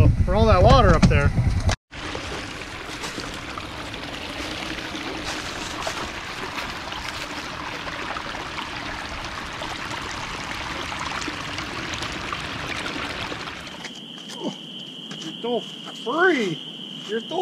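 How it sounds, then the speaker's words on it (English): Intermittent creek running down to a lake, a steady broadband rush of flowing water lasting most of the stretch, with a brief cut near the start, then birdsong and outdoor sounds as the water noise drops away. "it looks like our intermittent creek is running down to the lake."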